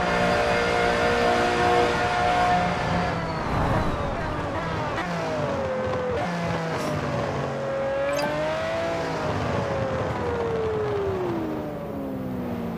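Aston Martin Vulcan engine in Forza Horizon 4, driven with a Logitech G29 steering wheel: a loud, continuous high-revving wail that climbs and drops through gear changes at race speed.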